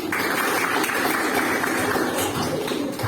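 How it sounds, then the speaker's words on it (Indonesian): A classroom of students claps after classmates present, a continuous patter of many hands at moderate level with faint voices mixed in. "Boleh tepuk tangan lagi sekali lagi."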